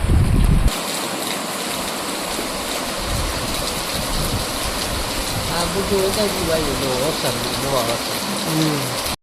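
A river swollen by rain flows fast with a constant broadband roar. A loud burst at the start gives way to a steady torrent, and faint voices come through later.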